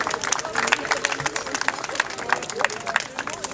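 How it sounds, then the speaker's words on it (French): Crowd applause with scattered clapping and cheering, steady and fairly loud throughout, with some voices mixed into the noise. "On peut l'applaudir."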